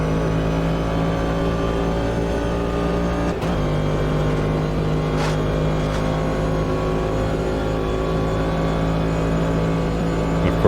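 Sustained drone of a Cadillac DPi race car engine in Automobilista 2, steady harmonic tone held at speed with a couple of brief clicks, loud and close throughout.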